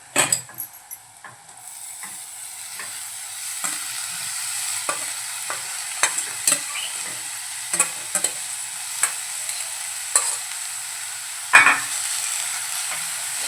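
Finely chopped fenugreek leaves fry with onion in a pan while a spoon stirs them, making a steady close sizzle broken by repeated sharp scrapes and taps against the pan.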